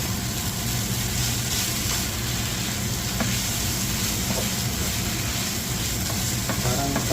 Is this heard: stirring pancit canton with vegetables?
yes